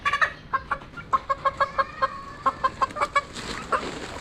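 Darag chickens, a native Filipino breed related to wild junglefowl, clucking in a steady series of short, fairly close calls, with a busier burst of flock noise near the end; no one speaks.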